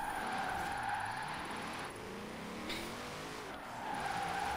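A Corvette drifting in a Formula Drift video game, its tires squealing continuously over a steady engine roar for several seconds, loud and sustained, no talking.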